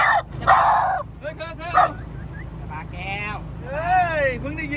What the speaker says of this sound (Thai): มันเห่าเฉยแต่มันไม่กัด